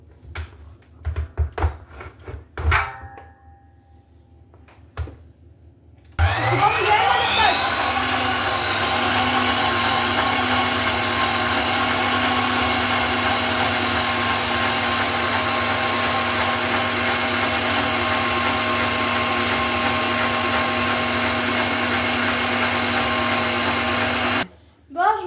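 An electric mixer beats soft cookie dough, starting abruptly and whirring at a steady loud pitch for many seconds before cutting off, after a few brief knocks and clatters.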